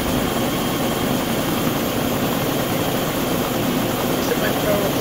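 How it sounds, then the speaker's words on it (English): A helicopter engine in the ARMA 2 video game drones steadily and loudly with a constant low rotor roar throughout, unchanging in level, with a voice talking faintly under it. "there's a helicopter."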